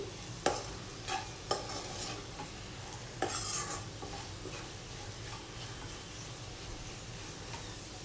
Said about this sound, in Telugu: నెక్స్ట్ మరొకసారి బాగా అంతా మిక్స్ చేసుకోవాలండి